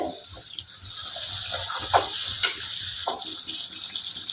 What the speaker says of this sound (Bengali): এভাবে চারিদিক থেকে আমি তেল দিয়ে দিয়ে ভেজে নেব।